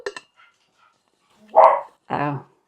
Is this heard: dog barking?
yes